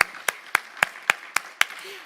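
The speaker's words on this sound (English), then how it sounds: "A big round of applause to our excellent speakers." Clapping for panel speakers at a forum: seven sharp, evenly spaced claps in a steady rhythm, sounding like a few hands near the microphone rather than a full crowd.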